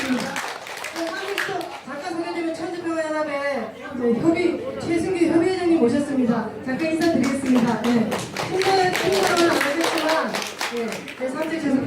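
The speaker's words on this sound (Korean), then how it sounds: "박수 부탁드립니다." Audience applause at a year-end award ceremony, scattered hand clapping throughout under a speaker's voice and a murmur of chatter.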